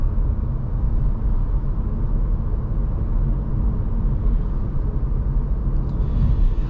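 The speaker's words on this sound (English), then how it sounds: "this engine paired up with the 7-speed dual clutch is a match made in heaven too" Steady low engine drone from a 2024 Audi RS 3 with a seven-speed dual-clutch gearbox, heard from inside the cabin while cruising in comfort mode, a constant rumble with no voices.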